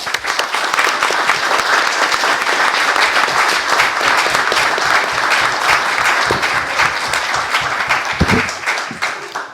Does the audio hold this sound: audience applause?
yes